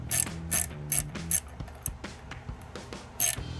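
Hose clamp on a cold air intake on a GMC Sierra 1500 being tightened, a few close, crisp ratchet clicks in short bursts with brief pauses between.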